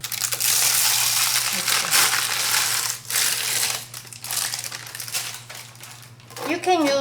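A scraper cutting and scraping a crispy quinoa rice crust off a hot pan, with loud continuous crunchy, crackling scrapes broken by short pauses, and a voice briefly talking near the end.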